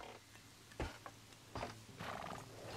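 Horses in the Western video game Red Dead Redemption 2 give a few sharp snorts and hoof thuds over a low steady rumble, close and moderately loud.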